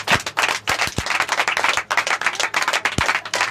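A worship congregation clapping loudly for God, sharp close hand claps in fast uneven bursts with a few heavier thumps mixed in.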